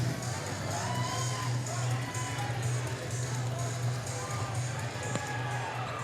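Crowd at a boys' high school basketball game cheering and shouting in the gym, a steady moderate roar with scattered whoops and a low hum beneath, fairly distant and continuous.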